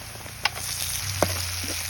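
Steady oil sizzle of onions and chilies frying, with a couple of sharp clinks of a utensil against the pan, no talking.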